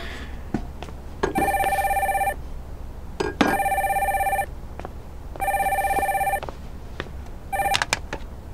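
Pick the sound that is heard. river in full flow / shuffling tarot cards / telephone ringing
telephone ringing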